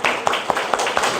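Church congregation clapping for children at a service, a short burst of many hands with a few sharper claps standing out, fairly steady and close.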